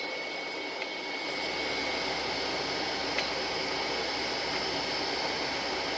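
A three-phase machine motor running on single-phase electricity, a loud, steady, close whirring roar with a constant high whine and no pauses, alone without talk.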